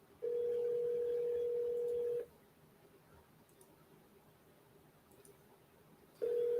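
A steady telephone dial tone sounds loud and close for about two seconds, drops to a quiet hiss, then returns at the end.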